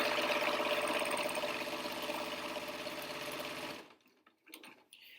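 A sewing machine runs steadily, back-stitching fabric for an N95 replacement mask, with a close, continuous rapid chatter that stops abruptly, followed by a few faint handling clicks.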